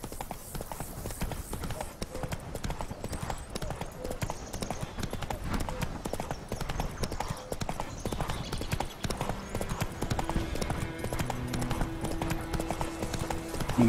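Roach, the horse in The Witcher 3, gallops along, its hooves clopping in a fast, continuous rhythm close up, with game music and a voice calling out now and then.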